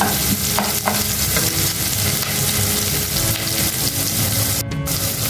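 Onions sauté in a pan for a spicy Dindigul-style egg curry, with a steady, close sizzle and repeated spatula stirring strokes throughout.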